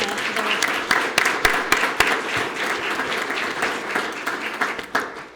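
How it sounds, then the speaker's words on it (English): Sustained audience applause at a police department awards ceremony, a dense wash of many hands clapping steadily at fairly close range for several seconds, with a few sharper individual claps standing out. "let's give them a great round of applause"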